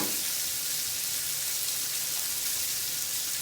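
Sausage and onions sizzling on a flat griddle at about 360 degrees, a dense, continuous bright hiss of frying fat, close and steady throughout with no talking.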